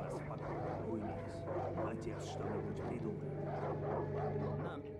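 Dogs bark in Far Cry 5, a few sharp yelps and barks scattered over a steady low game hum, with voices talking throughout.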